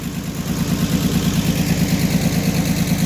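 A sawmill engine idles after warming up, a steady close rumble with an even low pulsing throb that holds at constant level throughout.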